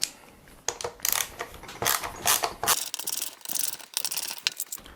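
Four Torx T20 screws being backed out of a DeWalt DCM561P 20V cordless string trimmer's spool head, with close, irregular ratcheting clicks and small metallic rattles in short bursts.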